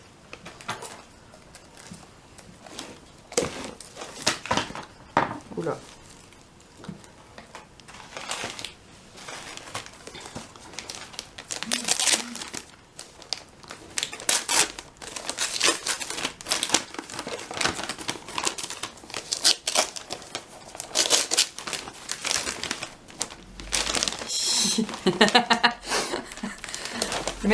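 A package being opened with scissors during a nail art swap, with repeated crinkling of wrapping and sharp snipping and rustling bursts that grow busier toward the end, while someone talks intermittently over it.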